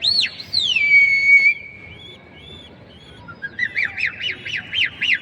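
Pigeons call close by with whistling, squawking notes: a long gliding whistle first, then a run of quick repeated warbles, over a soft busy background.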